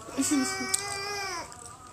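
A single drawn-out, high wavering cry like a cat's meow, lasting over a second, fairly close and clear against quiet background.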